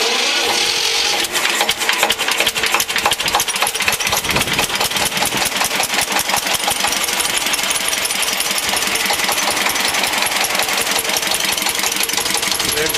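A vegetable-oil-fuelled combined heat and power generator engine starts up and settles into a loud, steady, rapid mechanical clatter that fills the whole stretch, close and alone with no talk.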